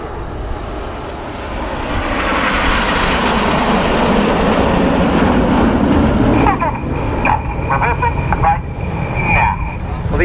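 A roaring jet engine from a Typhoon and display aircraft at the 2016 Southport Airshow, swelling and sustained as it passes overhead, with crowd noise and announcer talk faintly beneath.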